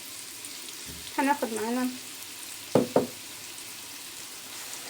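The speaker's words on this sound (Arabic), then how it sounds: "نبدأ كده نشوح البصلاية كده" Onion sautés in a pot for a one-pot yellow lentil and rice dish, a soft steady sizzle heard close. A voice speaks briefly over it, and a couple of knocks follow.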